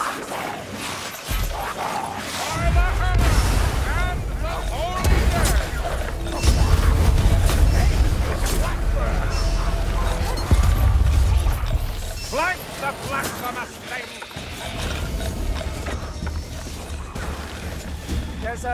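Gunfire from a Skaven ratling gunner in the video game Warhammer: Vermintide 2, a loud sustained rattle of rapid shots mixed with crashes and thuds from close combat, with shouted character voices over the din.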